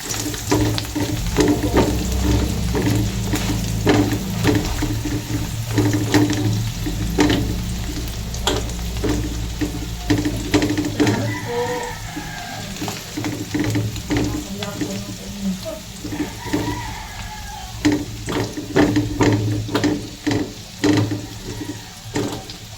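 Loud, steady sizzling of dried anchovies frying in hot oil, close by, with occasional stirring and clinks of a utensil.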